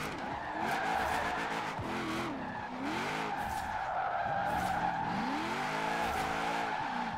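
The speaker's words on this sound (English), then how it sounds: "It lights the tyres up almost instantly" Tyres skid and squeal in long wavering screeches as a car drifts in first gear in Forza Horizon 4, engine revving underneath, loud and continuous.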